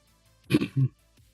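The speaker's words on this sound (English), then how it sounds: "And then you hear him clear his throat." A man clears his throat once, a short rough two-part rasp close by, in an otherwise quiet moment.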